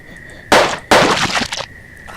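Two sharp gunshots from a video game, a loud crack followed by a second, longer blast with a brief tail, both set over a faint steady electronic tone and no speech.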